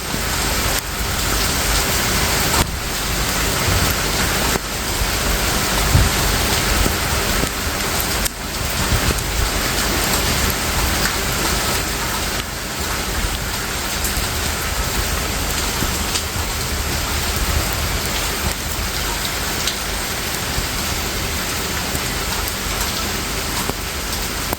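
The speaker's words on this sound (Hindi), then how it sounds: "ममा कर रही है बारिश में बैठ के एंजॉय" Heavy rain falling steadily onto a veranda, a continuous loud hiss of drops with no pauses and no voices.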